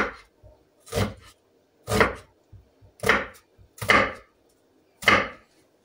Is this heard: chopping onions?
yes